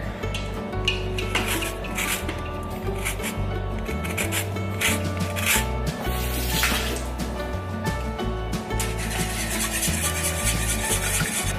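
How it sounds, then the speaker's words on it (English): A lemon is zested on a grater with continuous, fairly loud rasping strokes in an uneven rhythm over a steady low background hum. "then we're gonna add the zest of 1 lemon"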